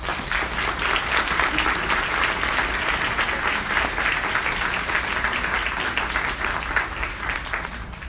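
An audience at Rollins College applauds as Congresswoman Murphy is welcomed, with dense, steady clapping that holds at full strength for the whole stretch.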